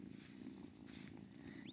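Steady, soft purring from a cat in the Wylde Flowers video game, a continuous low rumble running throughout with faint chiming game music above.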